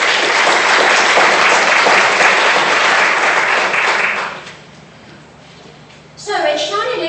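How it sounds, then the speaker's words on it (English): An audience at a 2017 graduation ceremony breaks into loud, dense applause for about four seconds, then it fades to quiet before a voice starts speaking. "let's kick off with giving yourselves a big round of applause"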